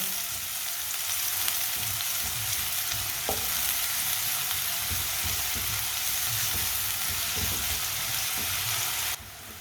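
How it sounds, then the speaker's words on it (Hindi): Spinach fries in hot oil in a pan, a steady close sizzle and crackle with light stirring, no voices, ending slightly quieter. "पालक को ना 1 मिनट के लिए पका लेते हैं ऑयल में"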